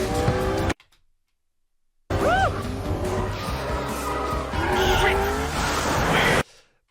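A race car loses grip and squirrels out of Druids bend at a London circuit, engine roaring with tire squeal and skidding in two loud bursts around a sudden dropout of silence.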